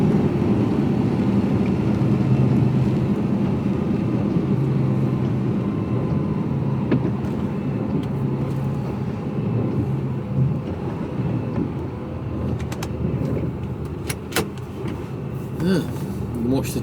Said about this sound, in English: Train's only just going through.